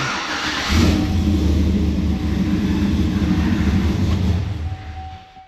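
A 2007–2013 Chevy Silverado truck engine cranks and catches, then settles into a steady, loud idle close by for several seconds before fading slightly, with no talking.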